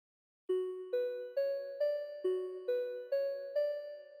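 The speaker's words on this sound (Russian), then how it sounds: "первый звук, который я накрутил в серуме, вот такой вот колокольчик" Synthesized bell tones built in the Serum plugin with EQ, stereo widening, light delay and reverb play a steady sequence of eight bright chime notes, each struck cleanly and decaying, stepping through a short repeating melody with no voices.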